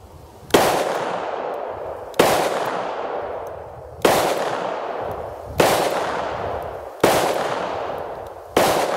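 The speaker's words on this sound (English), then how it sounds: "Let's shoot a cylinder full of 357 Magnum so you can see how controllable it is" A revolver fires six .357 Magnum rounds, each a loud sharp report with a long decaying echo, spaced roughly one and a half seconds apart, with no talking.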